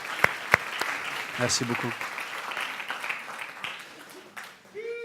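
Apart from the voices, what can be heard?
applause for the cooks and servers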